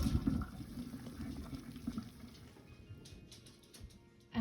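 Boiled kalabasa squash drained of its cooking water, a splashing, pouring gush that is strongest at the start and then tapers to a thinner trickle, close and fairly quiet.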